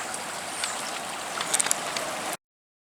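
A small creek in Creswell, Oregon runs under a little footbridge, giving a steady, close rushing wash of water with a few brief splashy bursts, then stopping abruptly.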